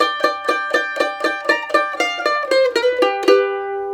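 A mandolin plays a simplified downstroke blues riff in G, in Monroe-style bluegrass. Crisp plucked notes and chop chords fall in an even, brisk rhythm, close and clear, ending on a ringing sustained chord with no voice.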